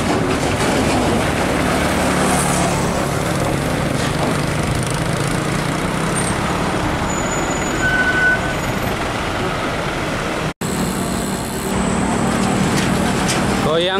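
A UD Quester GWE 280 trailer truck roars past on a busy Indonesian highway, its heavy diesel engine droning loud and steady. A brief dropout comes near the end, and the noise of traffic continues behind it.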